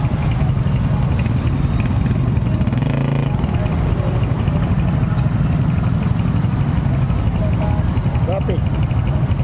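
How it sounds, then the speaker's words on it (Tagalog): Street traffic in Bangued, Abra, with motorcycles and cars crawling along, their engines droning and idling close by in a continuous busy hum, with occasional brief higher tones cutting through. "Traffic."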